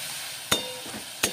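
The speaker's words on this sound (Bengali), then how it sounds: "এটা ভালো করে নেড়ে নেব যাতে রসুনের গন্ধটা না আসে খাবারের মধ্যে থেকে।" Ground garlic paste being stirred in a hot pan with oil, a soft continuous sizzle broken by two sharp spatula knocks against the pan, close and without talk.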